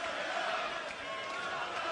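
A darts crowd in a packed arena roars and cheers in a continuous, broad wash of voices that fills the whole moment, with a commentator's voice faintly mixed in.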